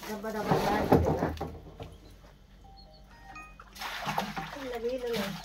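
Water splashes and slaps while clothes are hand-washed, the wet sounds coming in bursts between stretches of someone talking close by.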